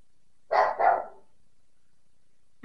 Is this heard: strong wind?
no